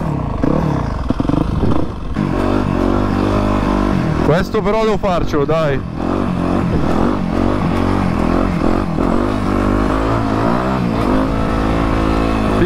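A Yamaha YZF 250 four-stroke motorcycle engine running loud and close, steady droning with revving swells and rattles while someone talks over it.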